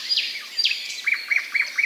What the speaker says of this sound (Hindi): आंटी ने कहा, चिड़िया कितनी प्यारी है।